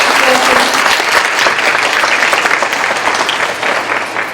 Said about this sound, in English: So a round of applause for the Merrill.